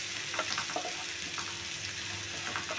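A paste of ground chickpea flour with onion fries in a pan, giving a soft, steady sizzle with faint crackles and light scraping, quiet and without speech.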